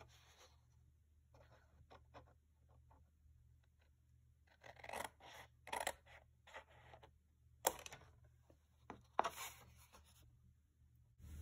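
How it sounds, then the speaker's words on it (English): Scissors snip through scored paper card for a fold-flat box card, giving a string of short close crisp cuts and rustles that grow louder in bursts toward the end. "I'm going to cut about halfway in between those two score lines"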